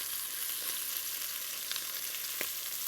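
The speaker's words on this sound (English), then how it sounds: "I'm going to stir that in and let it fry a little bit" Tomato paste fries and sizzles in a pan for pot-roast-style pepper beef, a steady broadband crackle with a few brief stirring scrapes, close and continuous with no voices.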